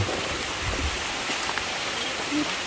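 Rain falls steadily in a wooded spot during mushroom picking, a dense continuous hiss of drops on leaves and surfaces, close and uniform, with faint voices mixed underneath.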